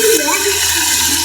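Water splashed into a hot pan of frying garlic and onion sets off a brief, loud, crackling sizzle and rushing hiss that lasts about a second.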